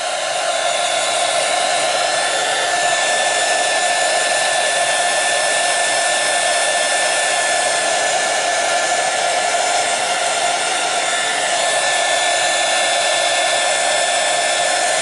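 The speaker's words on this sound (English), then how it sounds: "I don't use a heat gun very often because it tends to curl the pages" A heat gun drying colouring on a paper page gives a loud, continuous airy whoosh with a steady motor hum, close and unbroken throughout.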